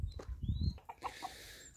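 Faint clucks and a thin chirp from chickens and chicks in a backyard coop, brief and soft against a quiet, slightly hissy background.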